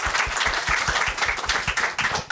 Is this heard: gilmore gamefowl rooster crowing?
no